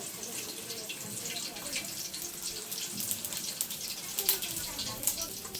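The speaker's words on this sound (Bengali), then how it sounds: "এখন আমি দিয়ে দেব গরম জল। পরিমাণ মতো গরম জল দিয়ে দেব।" Hot water pours into a pot of simmering country chicken curry, a continuous splashing gush with small bubbling bursts, fairly close and steady throughout.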